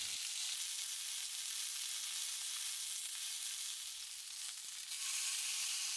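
Yakitori chicken pieces frying skin side down in a pan, giving a loud, steady bright sizzle that keeps going without a break, with a few faint knocks underneath.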